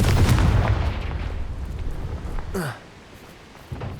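In the Hogwarts Legacy video game, a Confringo fire spell goes off as a loud rumbling blast that rolls out over a couple of seconds and then fades.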